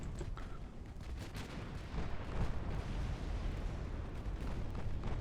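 Naval guns in Ultimate Admiral: Dreadnoughts boom in a dense, continuous barrage of rumbling shots, with 18-inch shells and explosions blending into one loud, rolling roar.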